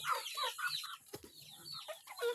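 Several chickens cluck and squawk nearby on a farm in a busy, overlapping chorus, fairly quiet with some rustling.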